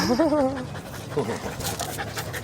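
Rottweiler panting steadily in a city downtown, breathy and close, while a person talks over the start of it.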